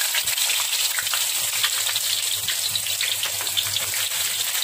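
Cumin seeds, cinnamon and onion sizzling in hot oil for mutton varuval, a dense, continuous frying hiss heard close and steady throughout with no talk.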